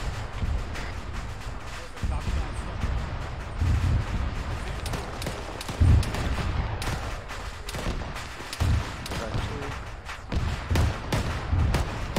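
A BMP armored vehicle explodes in ArmA 3 combat, with repeated deep thuds and booms over a constant rumble of gunfire, and voices talking throughout.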